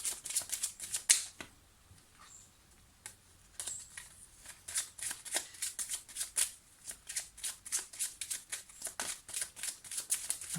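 Lenormand oracle cards being shuffled for a card reading: a steady run of crisp, rapid riffling slaps, close and fairly quiet, with no voice over it.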